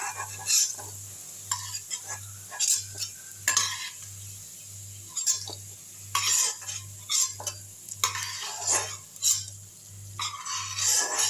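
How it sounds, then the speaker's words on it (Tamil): Garlic lightly sautéed in oil sizzles under repeated bursts of spoon-on-pan stirring and scraping, close and rhythmic, with a steady low hum underneath and no speech. "லேசாக வதக்கி விட்டுக்குங்க. லேசாக வதக்கினா போதுங்க."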